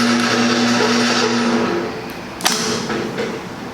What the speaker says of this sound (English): And now I will turn it around and make a weld in the area where the business card is.